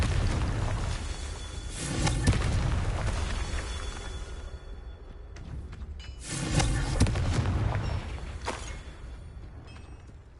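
Confringo spell explosions in the Hogwarts Legacy video game, two heavy rumbling blasts a few seconds apart that swell out of a constant loud, dense roar.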